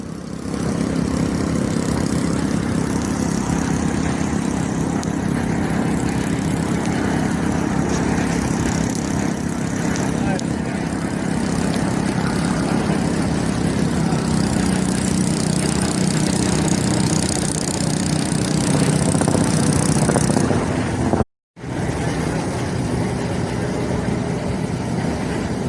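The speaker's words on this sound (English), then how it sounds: "Hoses are already inserted into the fill tubes, and we simply have to hook each pump straight up to each hose." Engine-driven pumps run steadily while filling 12-foot AquaDams through hoses at a construction site, a loud continuous mid-pitched drone throughout with one brief cutout near the end.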